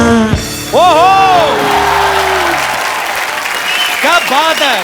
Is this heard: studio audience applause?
yes